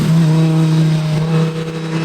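Audi R8 race car engine droning loud and steady at high revs on a racing circuit, a close continuous tone with a slight shift near the end, no voices.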